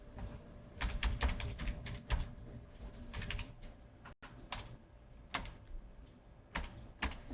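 Fast, quiet typing on a computer keyboard while entering a file name, clusters of close key clicks with brief pauses between bursts, no talking.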